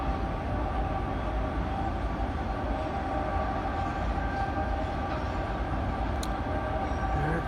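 A freight train with a distributed power unit passes nearby, a steady loud rumble and rolling clatter of wagons filling the whole stretch without letup, no speech.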